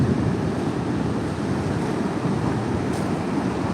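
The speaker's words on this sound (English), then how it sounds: "We're out here enjoying the sound of that surf." Ocean surf breaking at a beach while agate hunting, a loud, steady, broadband wash of waves mixed with wind buffeting the microphone, continuous throughout with no talk.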